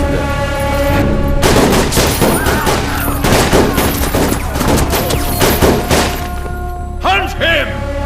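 Gunfire in a Pushpa 2 film scene: dense bursts of shots and heavy thuds crackle close and loud, mixed with shouting voices and dramatic music.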